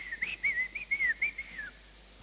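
A person whistles a short, wavering tune, a single clear tone rising and falling over about two seconds, fairly close and alone in a quiet room.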